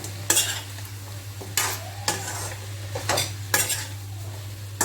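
Potato, tomato and chopped green chili are stirred in a pan of chicken curry, with a spatula scraping in several distinct, spaced strokes over a soft background sizzle and a low steady hum.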